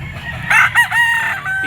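A rooster crows once, near and loud, at an outdoor Philippine pet market, with a constant low crowd hum underneath.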